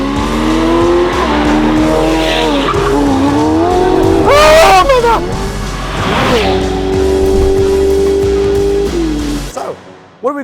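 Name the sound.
Ferrari Pista with aftermarket exhaust system roaring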